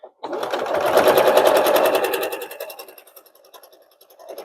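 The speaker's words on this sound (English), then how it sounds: "And sew it down." A sewing machine stitches quilt pieces for a sunflower quilt in a fast, steady run of needle strokes lasting about two seconds, close and clear, then slowing and fading out before a short restart.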